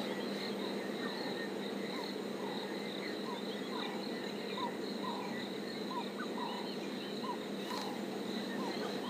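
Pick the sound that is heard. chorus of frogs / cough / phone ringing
chorus of frogs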